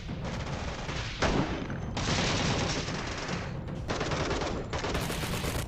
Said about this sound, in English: I don't know they're shooting Star Troopers